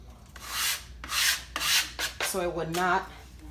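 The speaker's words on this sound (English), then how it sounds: "I like to rub some flour, so this way, once we start rolling it, so it would not" Flour is rubbed onto a wooden rolling pin for Haitian bread dough, heard as several separate dry brushing strokes close up, followed by a brief squeaky, tonal scrape near the end.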